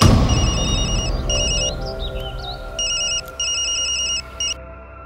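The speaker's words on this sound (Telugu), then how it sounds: "రే వాడికి ఒకసారి ఫోన్ కలపరా." A telephone rings on an outgoing call, repeated electronic ringing bursts in a regular pattern, with a faint underlying hum and no talk.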